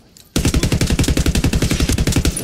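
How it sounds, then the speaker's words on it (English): Rapid automatic gunfire from Ghost Recon Wildlands, a steady burst of evenly spaced loud shots that starts abruptly after a brief quiet moment and continues without pause. "I'm opening fire on these shitheads."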